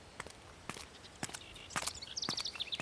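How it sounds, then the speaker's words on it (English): Footsteps crunching on rough ground outdoors, about a dozen steady steps drawing nearer, with faint birdsong chirping in the background and no talk. "Footsteps."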